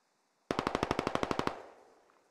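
A rapid burst of about eleven automatic gunshots from friendly players in the video game Squad, loud and evenly spaced over one second, then a short echoing tail and quiet.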